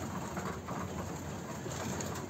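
Pigeons coo in soft, low, repeated murmurs against a steady background hum, fairly close and continuous.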